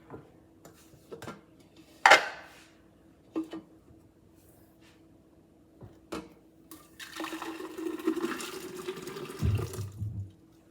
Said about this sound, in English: now we're gonna pour this batch into a container